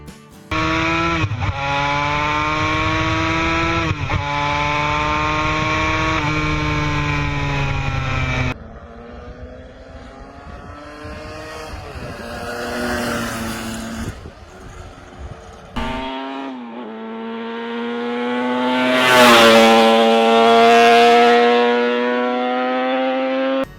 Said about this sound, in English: a snarling V4 two-stroke loaded with old-school charm